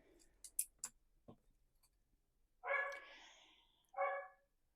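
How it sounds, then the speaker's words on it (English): Dogs bark inside a house in two loud bursts, a longer bark followed by a shorter one, after a stretch of quiet clicks and small handling taps. "I'm sorry about the dogs."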